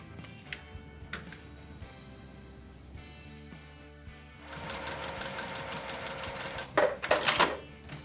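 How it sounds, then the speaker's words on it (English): A sewing machine stitches quilt block seams, a steady mechanical whirring run starting midway, with a few quieter bursts of stitching and brief clicks before it. "then we're gonna sew on our top, and our bottom block is done"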